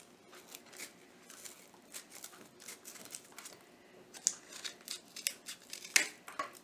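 Scissors snip through cardboard in a quick series of sharp, crisp cuts that get louder and more defined toward the end, heard up close with no voices.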